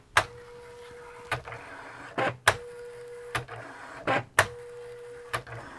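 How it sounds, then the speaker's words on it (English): An Okidata Okimate 20 printer prints with repeated mechanical clacks of the carriage at regular intervals, a faint whine running between the strokes, close and alone without talk. "And it does indeed look like we are printing."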